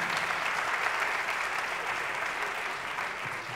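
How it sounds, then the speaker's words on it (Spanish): A comedy club audience in Yucatán at a stand-up show applauds steadily, a dense, even wash of many hands clapping at once that holds at a constant level throughout. "el aplauso para toda la gente de Yucatán"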